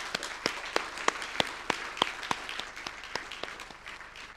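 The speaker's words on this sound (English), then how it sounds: "I'd like you all to join me in once again applauding the winners and the evaluation panel and everyone who made this possible" At an awards ceremony for the Global District Energy Climate Awards, a small group applauds the winners with sparse, distinct claps in a loose rhythm, close and fairly crisp, fading slightly toward the end.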